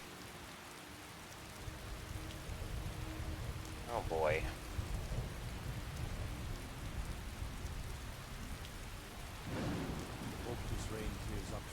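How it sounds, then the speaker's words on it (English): Steady rain pours with a low rumble of thunder in a Skyrim game scene at night by a campfire, a continuous wash of patter, and someone briefly speaks over it. "Okay, well, it did, but now it's raining."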